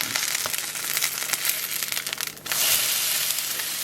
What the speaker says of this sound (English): I'm going to take this and I'm going to flip it